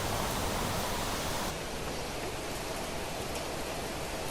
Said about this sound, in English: It's raining. Lots and lots of rain.